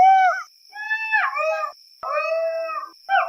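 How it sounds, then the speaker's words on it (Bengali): A jackal howls at night in a few long, wavering calls separated by short pauses, loud and clear, with a thin, constant insect-like whine sustained in the background. "ঝিঝি পোকার ডাক আর মাঝে মাঝে শিয়ালের হুক্কা হওয়া ডাক"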